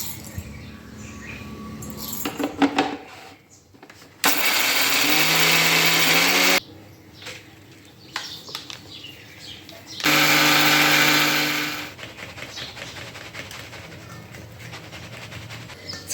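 An electric mixer grinding dried anarsa mixture: two loud, whirring bursts of a few seconds each, with quieter clatter and background noise between and after them.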